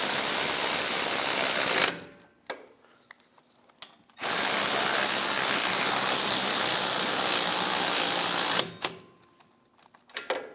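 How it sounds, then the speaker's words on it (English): Ratchet wrench tightening caliper bolts on the front brakes of a 2015-2022 Chevrolet Colorado, two loud bursts of rapid clicking ratcheting with a quiet pause between, close up and free of talk. "get the caliper bolts started. Tighten these down."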